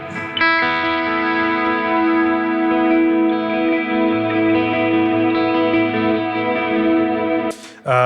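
A sustained electric guitar chord through a stereo delay pedal rings out, smeared and repeated by a lush delay that keeps it shimmering until a final strum.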